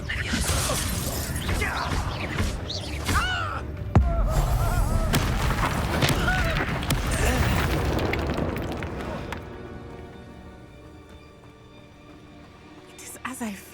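A fiery Incendio spell bursts in the Hogwarts Legacy video game, a dense crackling blast with a sharp onset that roars on for several seconds before fading, with game voices talking over it.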